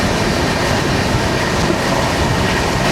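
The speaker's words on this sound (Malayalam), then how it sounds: "അത് വരുന്നതാണ് മഡ്ഗാവ് രാജധാനി" The Hazrat Nizamuddin–Madgaon Goa Rajdhani Express passes close by as a loud, continuous rush of rolling wheels and rattling carriages, heard from on board another train.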